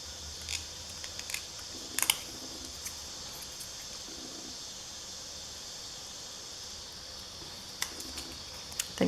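Scissors snip paper for a scrapbook page, a few faint, close cuts scattered over a steady background hiss.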